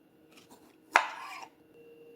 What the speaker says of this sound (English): this should be cut into thin rounds